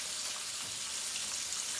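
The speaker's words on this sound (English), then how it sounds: "while that is frying" A chicken fillet frying in oil in a pan on a home cooker, a steady close hiss and crackle of sizzling grease with no voices.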